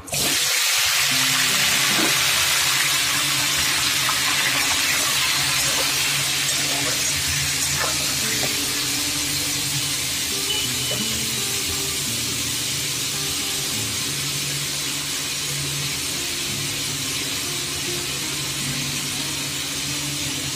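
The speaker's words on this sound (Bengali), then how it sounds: "কুমড়ো আলুটা এই তেলের মধ্যে দিয়ে দিচ্ছি।" Pumpkin and potato pieces sizzle in hot oil in a home kitchen pan, a steady loud hiss and crackle that holds evenly throughout with no talking.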